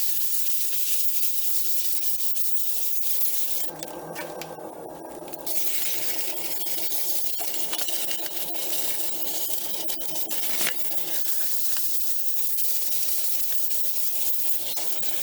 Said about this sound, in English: I'm going to sand it now with some 240